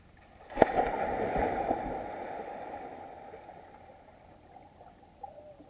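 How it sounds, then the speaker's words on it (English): A sharp splash of a person jumping into lake water is followed by a few seconds of churning, gurgling water that slowly settles to quiet. "you can hear the guy splash in the water"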